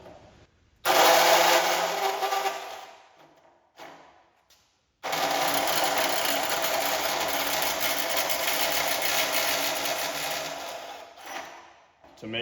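A portable band saw cuts through aluminium deck framing in loud, sustained buzzing passes, stopping briefly between cuts before a long steady cut resumes.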